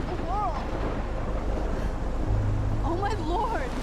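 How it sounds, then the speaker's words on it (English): Tornado winds in Life is Strange Remastered roar as a loud, continuous, broadband gust. Warbling tonal sounds rise and fall over the top at the start and again near the end. "Oh my lord! The tornado is back!"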